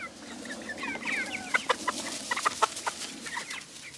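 A regular-size hen clucks near her chicks, a run of short close clucks and soft chirps at an uneven pace with no talk over them.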